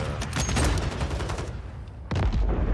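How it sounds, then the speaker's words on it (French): Rapid automatic gunfire from the video game Warzone, loud and sustained, pauses briefly, then resumes with a fresh burst near the end. "il est en train de tirer depuis tout à l'heure"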